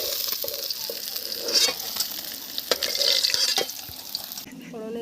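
Cumin seeds and onion sizzle and crackle in hot oil, a steady frying hiss with a few sharp pops and stirring scrapes, ending abruptly near the close.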